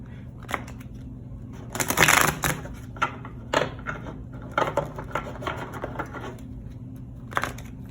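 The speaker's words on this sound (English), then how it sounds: "We'll get 3 shuffles." Oracle cards shuffled by hand in a few quick riffling bursts, a soft papery flutter with light taps between, over a steady low background hum.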